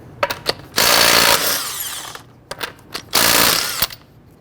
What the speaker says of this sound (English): Using a 21mm socket, go ahead and loosen and remove your lug nuts